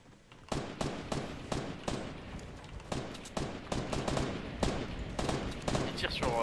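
Fortnite gunfire in a crowded final-zone fort battle, with repeated sharp shots and rapid bursts at varying distances, some close and loud, crackling steadily across the clip.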